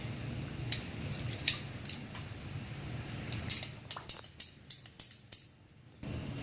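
Scissors snip through a rubber AC drain hose in a series of crisp, close cuts, scattered at first and then coming in a quicker run of six or seven sharp snaps before stopping.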